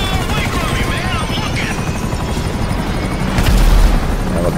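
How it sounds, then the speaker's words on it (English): A helicopter going down in GTA V: loud, continuous rotor and engine roar with a heavy impact boom near the end, mixed with game action and voices talking over it. "Helicopter go bye-bye"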